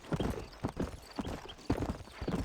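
Horse hooves in the video game Red Dead Redemption, a steady clip-clop of a walking horse with evenly spaced paired footfalls, fairly quiet and alone.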